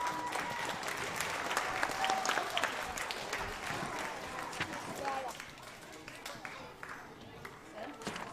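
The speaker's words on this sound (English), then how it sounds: "Can you clap for them?" An audience in a school program applauds a school choir, a steady, fairly faint wash of clapping with scattered voices, tapering off toward the end.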